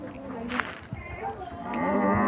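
Cattle mooing at a busy rural cattle market, a low drawn-out bellow over steady crowd murmur, with people talking nearby throughout.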